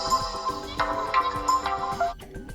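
A custom ringtone plays on a TECNO Spark Go phone, a short melodic tone pattern with bright repeating notes, heard close and clear with no talk.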